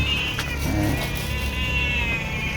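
A cat meows several times, close by and fairly loud, over steady low background noise in a rural home setting.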